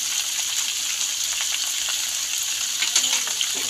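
Gourd cooks in a pan with salt, green chilli and turmeric, giving a steady close frying sizzle with faint stirring scrapes and crackles throughout.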